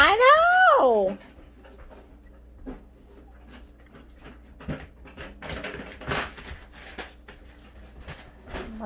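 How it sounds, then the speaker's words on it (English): Dog whimpering with a rising, high-pitched whine at the start, followed by scattered scratching, tearing and rustling as it rips apart a balloon indoors, with a voice talking faintly underneath. "My dog is tearing my house down, killing a balloon."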